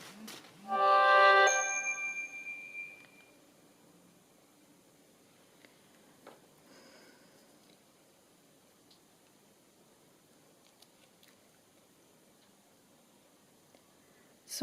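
A WhatsApp notification on a phone chimes once near the start, a bright tonal alert that fades quickly, followed by faint ticks and light handling in a quiet room.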